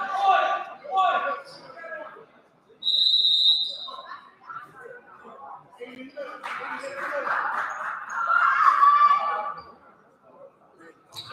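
A referee's whistle at a 2024 basketball tournament game gives one sharp, steady blast in the middle of the clip. Play-by-play commentary runs before and after it, over crowd and court noise.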